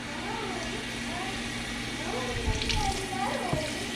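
Cold tap water runs continuously into a pot for cooking rice, a steady hissing stream with faint background hum and light clinks.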